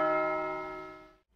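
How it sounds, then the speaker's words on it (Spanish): A single bell tone rings out clearly and decays smoothly over about a second, its harmonic overtones fading away alone. "También utilicé unas campanas,"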